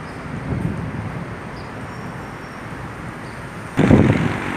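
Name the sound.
wind outdoors in central Bangkok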